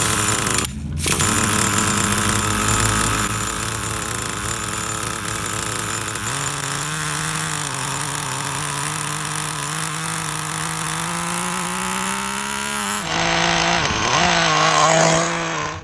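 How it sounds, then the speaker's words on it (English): A Traxxas T-Maxx 3.3 nitro RC truck engine fires up and runs loud and close, a buzzing high-revving two-stroke drone that holds steady, shifts pitch as it settles, then blips and revs near the end. "start it, press this button, boom, it fires right up"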